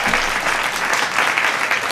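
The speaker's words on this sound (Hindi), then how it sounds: "आप सबका सुनने का मानस हो तो तालियां बजाकर एक बार जोरदार मुझे आदेश कीजिए" A crowd claps loudly and steadily at a Hindi comedy poetry gathering (hasya kavi sammelan), a short burst of enthusiastic applause filling the hall with no voices over it.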